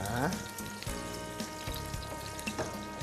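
Dried chillies stir-fried in oil with golden garlic and cooking fish roe over medium heat, a dense continuous sizzle and crackle with occasional scraping stirs, close and steady throughout.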